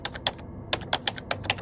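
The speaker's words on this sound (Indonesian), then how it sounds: "tiba-tiba dia dengar suara keyboard itu kayak orang ngetik sendiri" Computer keyboard typing: a quick, irregular run of crisp key clicks, close and fairly quiet, with a short pause near the start before the tapping resumes.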